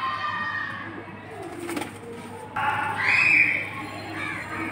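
Racer pigeons coo at a pigeon market in Bangladesh, with soft, low coos repeating close by over a constant background hum and murmur.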